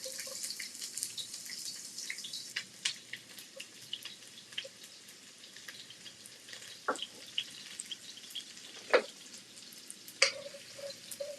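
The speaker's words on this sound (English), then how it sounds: "And then I'm just going to throw my white onions in first." White onions sizzle in sesame seed oil in a home kitchen pan, a soft steady frying hiss with a few sharper pops and crackles, heard up close and without talk.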